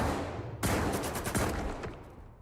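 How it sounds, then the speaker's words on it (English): A shotgun blast in the video game Stalker 2, fired from the hip: a sudden loud boom that rings out and fades over a couple of seconds, with a few overlapping crackling reports. "you can only hip fire this shotgun"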